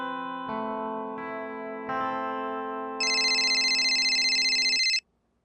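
An electronic telephone ringtone plays in a quiet indoor scene from a Hindi TV comedy, its steady tonal melody stepping up in pitch and growing louder before cutting off abruptly after about five seconds.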